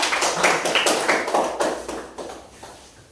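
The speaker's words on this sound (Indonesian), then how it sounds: "Tepuk tangan untuk mereka." A small classroom group claps for a presenting team, a short burst of close, uneven hand claps that thins out and fades over a few seconds.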